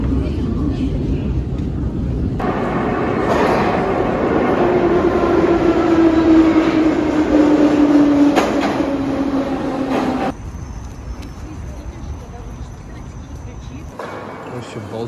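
Lastochka high-speed train riding, a steady loud rumble and rushing roar of the carriage in motion heard from inside, swelling for several seconds before dropping to a quieter hum near the end.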